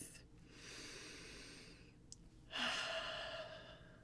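A slow, deep breath during a guided meditation: a soft, close inhale and a long sighing exhale, quiet and unhurried against faint background hiss.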